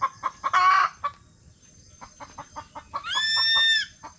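Hungry backyard chickens cluck and squawk in short bursts, with a loud drawn-out crow-like cry near the end, the flock sounding close and agitated.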